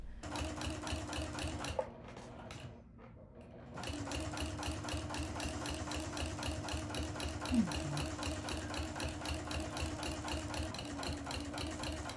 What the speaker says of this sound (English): we're taking this to the sewing machine now, and we're going to stitch along the quilting cotton side